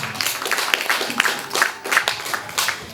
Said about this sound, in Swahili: Pigie Bwana Yesu makofi mengi.